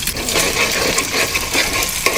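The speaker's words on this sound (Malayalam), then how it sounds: "അപ്പോൾ നല്ലപോലെ ചിക്കി എടുക്കണം നമ്മൾ മുട്ട." Egg scrambled in oil in a pan while Maggi noodles are being cooked. It gives a light sizzle under brisk scraping and stirring, with a few small clicks of the utensil against the pan, close and fairly loud.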